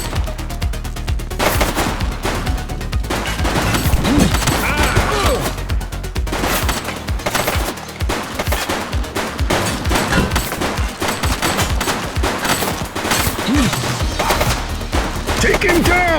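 Rapid bursts of gunfire in The Precinct, police game, with repeated shots and automatic volleys crackling densely throughout, loud and close, mixed with impacts and faint background voices.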